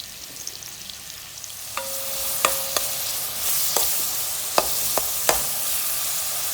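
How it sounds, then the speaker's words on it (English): Chopped onions frying in a pan for a king prawn curry, a loud continuous bright sizzle with scattered sharp clicks and taps of a utensil against the pan. "So we're going to fry some chopped onions."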